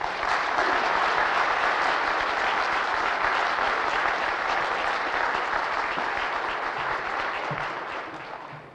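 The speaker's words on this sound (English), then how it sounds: "Would you come up and give him a round Nova Scotian applause?" Steady audience applause from a lecture-hall crowd in Nova Scotia, dense, even clapping holding at full strength for nearly nine seconds before easing off slightly at the end.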